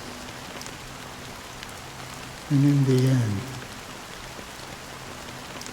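Steady rain falling in the video game Honkai: Star Rail, a constant soft hiss throughout, with a brief spoken line and a low tonal swell rising over it midway.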